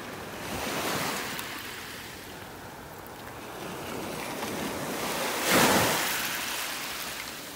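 Ocean waves wash up onto a shell-covered beach in North Naples, Florida, a steady broadband surf roar with a louder surge near the end, wind buffeting the microphone throughout.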